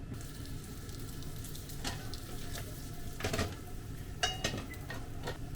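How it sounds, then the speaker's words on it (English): Steamed yakisoba noodles fry in a hot pan to crisp the bottom, giving off a steady low sizzle with a few brief scraping and clattering spikes. "I'm gonna make the bottom of the noodle crispy."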